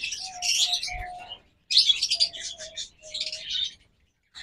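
Caged pet birds for sale chirp in busy overlapping bursts of high tweets, close and fairly loud, with short pauses between flurries and a brief low thump near the start.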